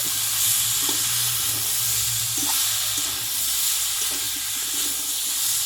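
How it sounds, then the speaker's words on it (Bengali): Raw banana curry with added sugar stirred in a frying pan, giving a steady sizzle and frying hiss with soft scraping stir strokes throughout, no talking. "চিনিটা দিয়ে আমি একটু নাড়াচাড়া করে নেব"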